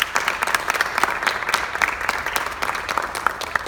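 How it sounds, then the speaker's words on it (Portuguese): A church congregation applauding, dense close clapping from many hands that stays steady and loud for several seconds with no talk over it. "Nos aplaudimos."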